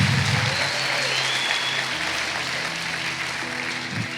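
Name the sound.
congregation applause in church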